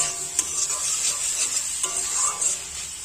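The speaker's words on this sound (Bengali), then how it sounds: "পেঁয়াজ লঙ্কা আর টমেটো খুব ভালোভাবে কষাই করে নিতে হবে" Onion, chilli and tomato sautéing in a pan, a steady close sizzle with continuous stirring and scraping strokes, no voices.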